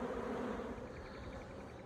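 Steady, dense buzzing of many honey bees at an opened, stressed, queenless beehive troubled by small hive beetle, close and continuous without pause.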